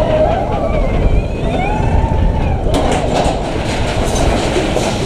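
The Helix roller coaster at Europa Park rolls into a tunnel with a loud, continuous rumbling roar of wheels on track, close and steady, and the sound turns brighter and more echoing partway through.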